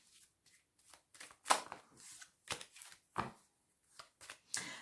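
A 32-card deck of playing cards being shuffled and handled, with a run of separate crisp riffles and snaps spread over several seconds, close and fairly quiet, with no talking.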